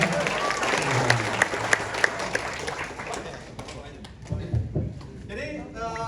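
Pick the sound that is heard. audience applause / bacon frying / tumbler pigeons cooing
audience applause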